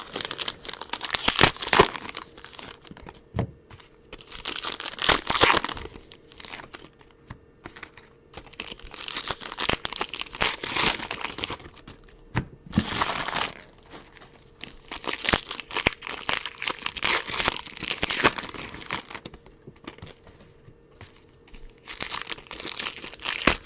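Packs of baseball trading cards are torn open and handled during a live card break, with repeated crinkling wrapper bursts and crisp tearing that come in clusters with short pauses between them, close and moderately loud.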